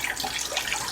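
Tap water running in a sink while mushrooms are washed, a soft steady splashing stream heard close for about a second.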